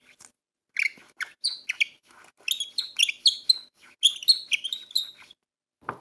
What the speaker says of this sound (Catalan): I m'escoltem el rossinyol.